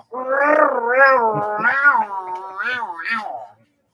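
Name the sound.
cat in heat meowing noisily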